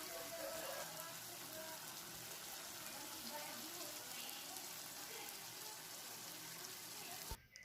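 Water heating in a pan toward a boil while cooking topokki gives a steady, dense hiss and bubbling with no pauses, fairly close and even in loudness, ending with a brief knock.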